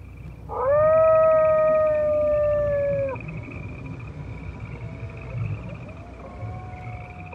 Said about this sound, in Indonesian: Malam tiba bersama dengan suara anjing yang melolong